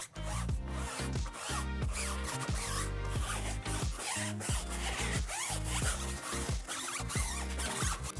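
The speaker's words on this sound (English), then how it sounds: "we just take our brush and now we start scrubbing away" A brush scrubbing a car wheel and tire to remove old tire shine: steady, close, rhythmic bristle strokes that repeat quickly and loudly for several seconds, with no voices.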